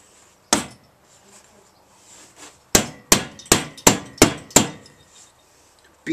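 Sharp metallic hammer blows strike a Yoshi race exhaust can, one early hit followed by a quick run of about six evenly spaced loud impacts, each ringing briefly, with quiet gaps between.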